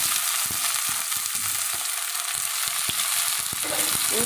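Eggplant fries in hot oil for a dried fish curry, giving a continuous loud sizzle broken by several sharp clicks and taps of stirring, with no voices.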